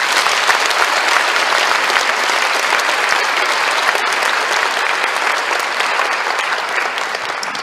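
A large crowd at a 2017 Korean workplace missionary conference gives sustained, energetic applause, with many hands clapping densely and evenly from start to finish and no speech over it.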